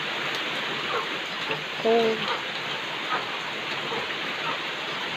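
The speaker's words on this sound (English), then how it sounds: "It's rain." Rain falls outdoors on a cold morning, a dense, steady hiss of drops filling the background while a person speaks briefly over it.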